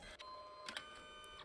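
A Canon SELPHY CP1500 compact photo printer whirs steadily and faintly with a thin sustained tone, broken by a few soft mechanical clicks.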